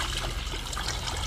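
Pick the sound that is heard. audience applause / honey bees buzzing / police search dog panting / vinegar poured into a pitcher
vinegar poured into a pitcher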